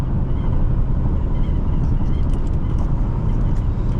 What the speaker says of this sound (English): There's some kind of little sound, wind sound coming from the left side.